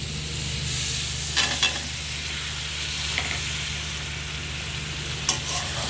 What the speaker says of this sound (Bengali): বেগুন, আলুটা দিয়ে মশলাটা সুন্দর মতন নাড়া দিয়ে নেব